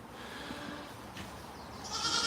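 A goat on a farm gives a single bleat near the end, rising over faint outdoor background noise after a quiet stretch.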